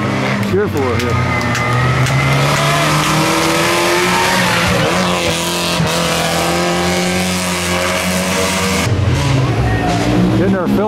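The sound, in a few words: red vintage cars driving past in the 2017 Mille Miglia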